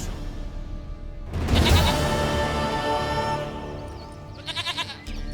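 A goat in The Witcher 3 video game bleats loudly in a long wavering cry up close, followed later by a shorter, quieter bleat.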